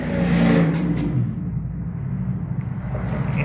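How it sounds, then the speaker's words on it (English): Cars pass by loudly outdoors, a broad rumbling roar with engine whir that swells early and then holds as a steady traffic wash, with no talk over it. "cars is loud"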